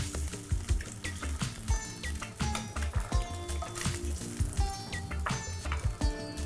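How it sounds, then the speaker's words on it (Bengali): Eggs fry in hot oil for a Bengali egg curry, crackling and popping in irregular close bursts with sharp sizzling spits over a low bubbling bed. "এখন আমি এটাকে ভেজে তুলে নেব।"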